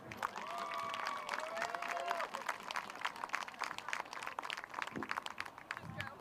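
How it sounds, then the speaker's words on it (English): Crowd applause at a high school football game ceremony, a broad steady wash of clapping and cheering from the stands with a faint tonal whistle early on, continuing through the whole stretch at moderate distance. "give a warm round of applause to Alec Beckett"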